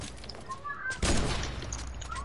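Video game gunfire in Fortnite, a sudden loud burst of shots starting about a second in over a steady background, with a voice talking around it.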